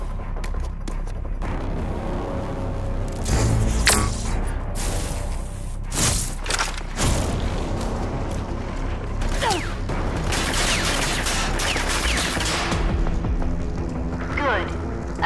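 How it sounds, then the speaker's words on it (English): Simulated enemy gunfire in the video game Rage 2: dense bursts of shots and booms run almost continuously, loud and close, with a voice speaking under the barrage. "Against simulated enemy fire."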